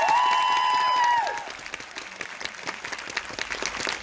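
Crowd applause at the Frankfurt Book Fair, a dense clapping that starts under a loud sustained music tone, then carries on alone as a steady crowd-wide patter.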